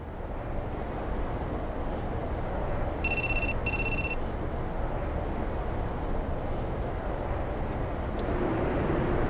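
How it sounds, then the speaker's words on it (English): A telephone rings in two short, bright bursts, close and clear over a constant rumbling background noise, with no talk. "I think that's your phone going off."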